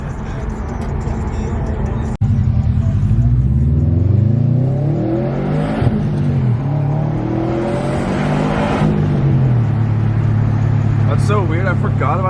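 A 1,000 hp Mitsubishi Evo X accelerates hard on the road, its engine note and induction whine climbing repeatedly through the gears. The loud, close sound continues through gear changes while people talk inside the car.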